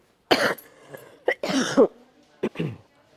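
A person coughs and clears their throat close by in several separate harsh bursts with short quiet gaps between them.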